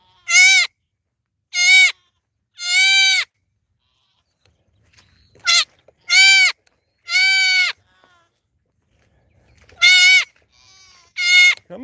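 A day-old baby goat bleats for its mother in a string of loud, close, wavering cries, some in quick pairs, with short quiet gaps between them.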